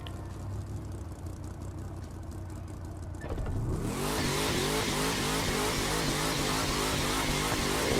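A car in The Crew 2 launches off the line in a Miami drag race: a quiet idle gives way after about three seconds to a sudden loud engine roar that climbs through rapid repeated gear-like sweeps.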